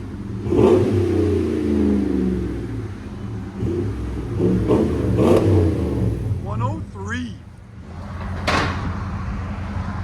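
A 2017 Ram 1500 pickup's 5.7L HEMI V8 with Flowmaster dual exhaust rumbles and revs up close, rising and falling in bursts, with people talking over it.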